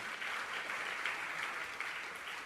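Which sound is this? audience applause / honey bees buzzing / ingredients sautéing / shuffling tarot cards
audience applause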